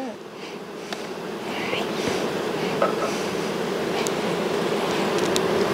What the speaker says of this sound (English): Nice yard of bees.